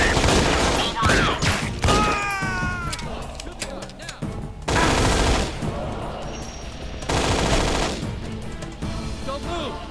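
Video game gunfire in the Hochtempelberg Monastery level, with bursts of rapid automatic shots and loud impacts spread across the clip, mixed with in-game voices and other game sounds.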